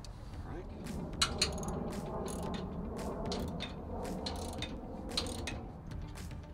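A ratchet tightens bolts on an RV electric power tongue jack being installed on a Coleman RV 17B, giving quick repeated metallic clicks in short bursts up close, with a low background hum.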